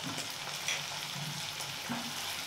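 Onion with onion paste and garlic paste frying in a pan, a steady broadband sizzle with a few brief stirring scrapes, close and continuous with no talking.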